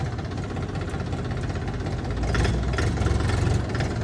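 A cold Bulat 244 tractor engine idling, a steady low diesel chug with knocking vibration that grows slightly louder and rougher partway through, close by and alone.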